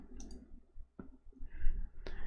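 A computer mouse clicks on a Save button, giving a few faint, sharp clicks in a quiet room.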